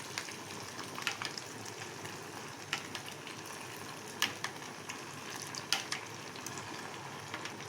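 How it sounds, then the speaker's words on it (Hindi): Hot ghee poured from a height over ghevar batter: a faint, fizzing sizzle with small irregular crackles and pops, fairly quiet and steady, with no talking. "और अब हम डालेंगे इसके ऊपर इस तरह से गरम गरम घी, साइड से लेके उसके ऊपर हम डालते रहेंगे"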